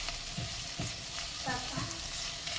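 Onions frying in a saucepan over low heat give a soft, close sizzle, broken by a few scraping stirs of a utensil across the pan bottom.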